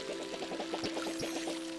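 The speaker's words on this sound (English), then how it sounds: "We'll actually water all of this while we're here." A watering can sprinkling crops in the Palia video game, a soft splashing pour pulsing in quick, regular bursts over a steady tonal game music line.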